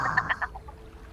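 Chickens in a video game clucking, a short run of four or five quick, bright clucks that trail off into quieter ones, heard alone without talk.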